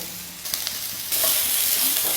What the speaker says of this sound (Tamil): வெங்காயம் சேர்த்து ஓரளவுக்கு நல்லா வதக்கிடுங்கம்மா